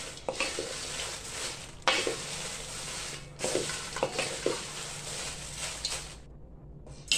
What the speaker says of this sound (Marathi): थोडंसं तेल टाकून आपण भाजतोय